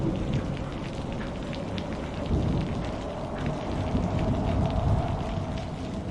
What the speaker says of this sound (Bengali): কালো কাপড়ে বৃষ্টিতে ভিজতে থাকা অবয়বটি রাহাতকে বের হতে দেখে সামনের দিকে এগিয়ে যায়।